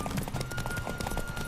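Rapid, even hoofbeats of a galloping horse in The Witcher 3, a close, continuous clip-clop rhythm filling the whole short moment with no talk.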